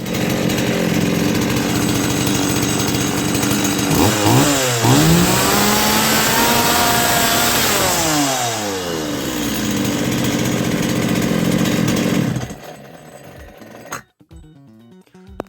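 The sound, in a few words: Stihl 180 chainsaw running after carburetor repair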